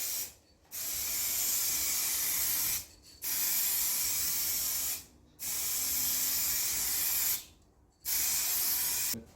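Aerosol spray paint cans coat a Chrysler Valiant red. Four long, loud, hissing bursts of about two seconds each are separated by short pauses, in an even on-off rhythm.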